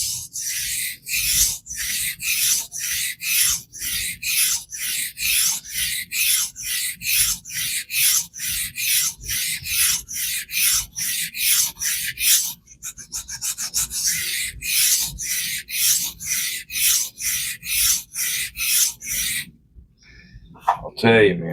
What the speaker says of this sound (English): sharpening steel like this is not very fun